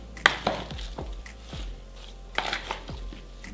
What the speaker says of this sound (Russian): Теперь все это перемешиваем.